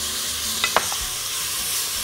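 Minced onion sizzles in hot oil with garlic and cumin in a pan, a steady close hiss with a couple of brief spatula clinks early on.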